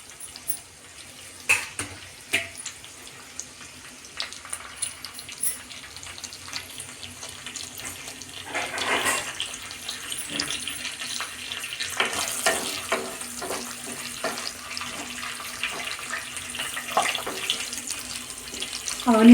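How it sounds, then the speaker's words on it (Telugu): Chopped onions frying in a pan with cumin seeds and curry leaves while cooking bitter gourd fry, a steady close sizzle with occasional stirring scrapes and clatter, no talking. "ఆనియన్స్ బ్రౌన్ కలర్ వచ్చేదాకా వేయించుకుందాం."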